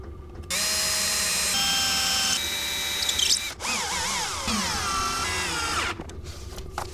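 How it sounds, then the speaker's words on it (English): A power drill driving screws to fix a mitre bar onto the underside of an MDF jig base, its motor whining at shifting pitches in several runs, close and fairly loud, with no talking. "I'm going to screw this mitre bar"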